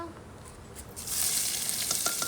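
Oil sizzling in a hot kadai on the stove, a quiet crackle that swells into a steady, louder hiss partway through and carries on with small pops, close by and with no talking.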